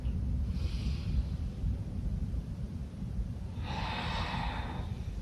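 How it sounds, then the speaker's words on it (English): Slow, deep breaths during a yoga practice, two soft airy exhales about three seconds apart over a faint low room rumble, close and quiet. "let's take 2 more rounds of breath"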